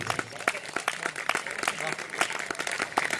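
Listeners at a Hindi kavi sammelan poetry recital break into applause, a dense, fairly distant wash of many hands clapping steadily for a few seconds, with voices mixed faintly underneath.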